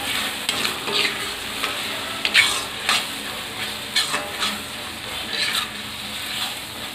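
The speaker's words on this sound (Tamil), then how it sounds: "மஞ்சத்தூள் ஆட் பண்ணி நல்லா கிளறி விட்டுக்கலாம்." Turmeric is stirred into an onion and tomato masala frying in a pan for a prawn thokku, with a constant close sizzle and irregular scraping strokes and clinks, and no voices.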